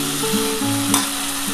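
Spiced water poured into a hot pan of tender flat beans, potato and lentil dumplings for a Bengali vegetarian curry, setting off a loud, steady sizzle. It carries on without a break, with faint stirring clatters under it.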